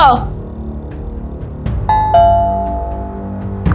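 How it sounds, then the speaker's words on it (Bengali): An electronic doorbell chimes a couple of ringing tones mid-clip, with a voice speaking over the start and soft background noise. "কলিং বেল কেন দিচ্ছে"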